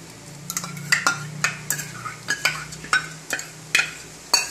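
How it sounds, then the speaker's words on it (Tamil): Repeated clinks and scrapes of a spoon against a metal pan as ground paste is stirred into vathakulambu, irregular and close, like stirring thick food in a pot. "இந்த அரைச்ச விழுதையும் இதில் விடுறேன்"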